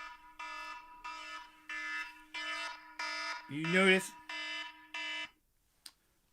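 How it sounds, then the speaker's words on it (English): An alarm in a living room goes off in a steady series of about seven loud electronic beeps. A voice briefly speaks over the middle of it before the alarm stops. "There went the alarm."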